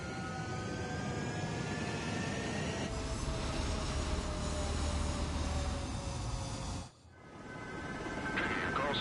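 A fighter jet in a flight combat game roars steadily on the runway, the engine thrust building loud and dense before a brief drop and a renewed surge.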